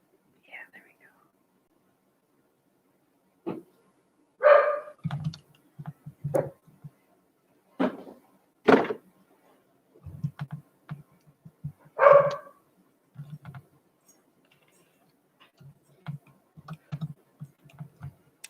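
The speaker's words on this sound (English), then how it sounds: "My dog's gotten into something again." A dog barks several times in short separate bursts, near and fairly loud, with quiet whispery talk and small clicks in between.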